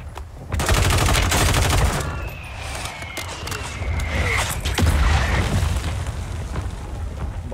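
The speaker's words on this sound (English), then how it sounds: "Mortar strike inbound." Mortar strike explosions in the video game Call of Duty Warzone 3 rumble as dense, heavy booms mixed with rapid gunfire, loud and continuous throughout, with brief faint game sounds over the barrage.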